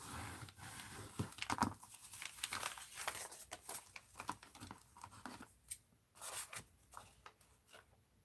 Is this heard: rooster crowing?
no